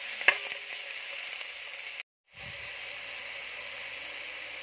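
Vegetables and garlic sautéing in olive oil over low heat, a steady close sizzle that stops for a moment and then resumes, with a few faint clinks near the start.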